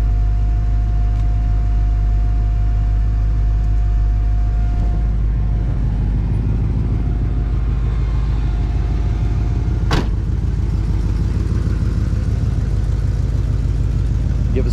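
A 1970 Oldsmobile Cutlass SX with its engine running, a steady, loud low-pitched rumble holding even throughout, with a brief sharp click near the end.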